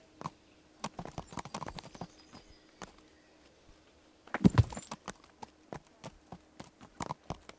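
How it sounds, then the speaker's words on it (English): A horse's hooves clip-clop at a steady walking pace in the video game Kingdom Come: Deliverance, sharp hollow knocks repeating throughout, with a brief louder thud partway through. "I need to get Elena, my horse."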